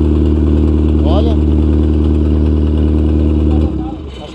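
Engine of an old Brazilian armored car running loudly and steadily at close range as it maneuvers, a deep constant drone that drops in level near the end; brief voice-like chirps sit over the engine.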